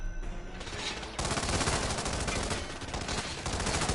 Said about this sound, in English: Stop throwing your flashbangs!